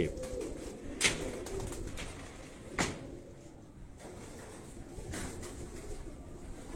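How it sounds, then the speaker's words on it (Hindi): Pigeons cooing nearby, low soft repeated coos over a steady bed of background noise, with a couple of brief knocks. "छोड़ो जी, ये एक दूसरा कबूतर है"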